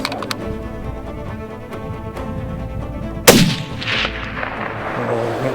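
Rifle shot fired at a bear during a backcountry bear hunt in Idaho, one loud sharp crack that rings out and decays amid outdoor noise, after a stretch of fainter background sounds.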